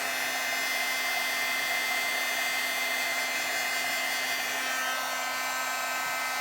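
A heat tool blows steadily on embossing powder on a handmade faux copper card, a continuous close whirring hiss with a constant pitch and no breaks.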